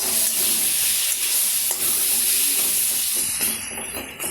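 Taro leaf curry with added sugar is stirred in a pan, a steady close sizzle and hiss with faint scraping strokes.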